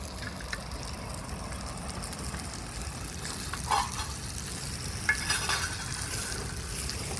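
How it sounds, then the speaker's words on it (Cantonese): Corned beef frying in a light portable wok at a hiking campsite, a steady soft sizzle with faint stirring scrapes and a couple of brief clinks, no talking. "鹹牛肉咧，煎一煎佢先香㗎"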